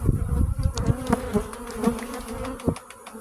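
Honeybees buzzing around hive colonies early in the season, a close, steady droning hum with individual bees passing near, no talk.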